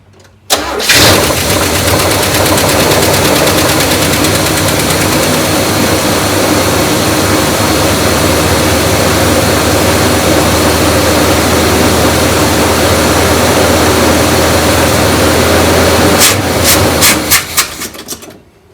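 A neglected 1972 big block V8 cranks and catches at once, then runs loud and steady for most of the stretch, with a rough, slightly clattery idle before it cuts off near the end.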